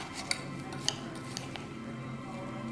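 A casserole mixture with shredded cheddar cheese gets tossed in a bowl, soft stirring with a few light clinks of utensil against dish, close and quiet.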